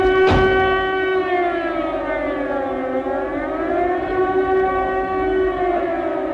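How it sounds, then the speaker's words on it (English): A loud World War II air raid siren wails steadily through a valley at Obersalzberg, May 1945, its rising and falling tone sustained throughout, preceded by a brief sharp knock at the start. "air raid sirens began to wail through the valley"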